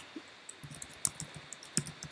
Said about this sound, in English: And I will type my own email